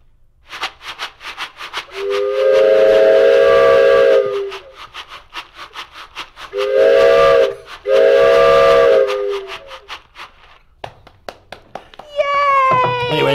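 A train is imitated Foley-style by rhythmically shaking a macaroni and cheese box, a fast chugging rattle broken by long sustained whistle-like blasts, with speech at the end.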